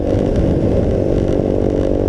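A Voge 300 Rally motorcycle engine runs at steady high revs on a night ride, a loud, continuous buzzing drone with a constant rasping tone and no pauses.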